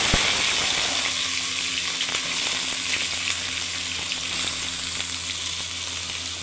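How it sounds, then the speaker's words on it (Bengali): Mixed vegetables fry and sizzle steadily in a hot pan, a continuous crackling hiss with occasional faint stirring clicks, no voices over it. "এই যে সবজি দিলে এখন দেখুন কতটা পুড়ে যাওয়ার পরে"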